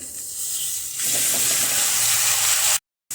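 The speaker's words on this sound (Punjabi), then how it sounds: "ਹੁਣ ਮੈਂ ਇੱਥੇ ਪਿਆਜ਼ ਪਾ ਦਵਾਂਗੀ ਪਿਆਜ਼ਾਂ ਨੂੰ ਮੈਂ ਗ੍ਰੈਂਡ ਕਰ ਲਿਆ ਸੀ" Ground onions hit hot oil in a kadai after a cumin tempering, bursting into a loud, steady sizzle with hissing spatter that runs close and continuous before cutting off abruptly near the end.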